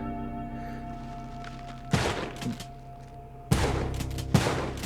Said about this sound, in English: But he'll still be shooting his shotgun.